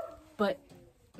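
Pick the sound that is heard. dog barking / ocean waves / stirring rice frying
dog barking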